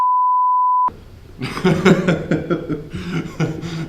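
A single steady censor beep tone lasts under a second, then stops, followed by muffled chuckling and laughter.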